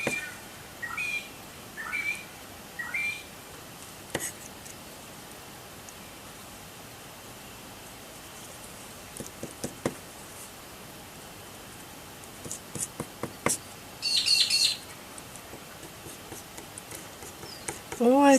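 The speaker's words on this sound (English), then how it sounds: "I think my bird is complaining that I'm not outside." A pet bird chirps indoors in short, sparse bursts of high cheeps and whistles, some brief trills near the end, set against quiet room noise with long gaps between calls.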